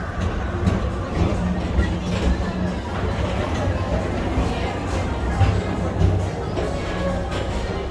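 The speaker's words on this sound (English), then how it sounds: "your express train keeps on rolling through the future" The PeopleMover train at Magic Kingdom, Walt Disney World, rolls steadily along its track with a constant rumbling hum and faint clatter, while a voice talks over the top.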